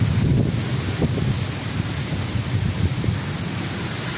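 Strong wind from a thunderstorm on the coast roars steadily and loud, buffeting the microphone as a constant broad rush with no voices.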